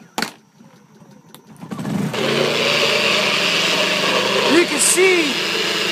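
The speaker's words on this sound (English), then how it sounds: "I put it on my magic bullet and I start my little generator" A small portable generator engine pulls to life and settles into a steady, close running drone that holds to the end, with a person talking briefly at the start.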